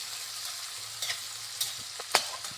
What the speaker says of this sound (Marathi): तेल लसूण आपल्याला छानपैकी असा तेलामध्ये परतून घ्यायचा आहे.